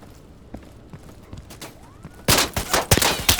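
Burst of gunfire in a New World PVP fight, loud rapid shots erupting after a quieter stretch of faint scattered pops and footsteps.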